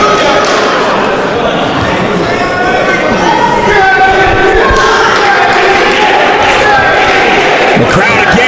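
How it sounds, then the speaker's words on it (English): A wrestling crowd cheers and shouts steadily at a DGUSA match as Dragon Kid faces Masato Yoshino, a dense, loud roar of many voices filling the arena throughout. "The crowd again urges Kid back to his feet"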